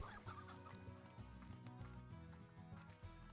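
Chickens cluck repeatedly in Slime Rancher's ranch setting, the short, choppy calls loud and near over a steady musical game soundtrack, with no one talking.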